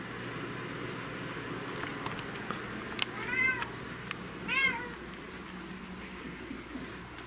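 A house cat meows twice in the middle, two short, clear calls close by, set against a steady low room hum with a few faint clicks and no talking.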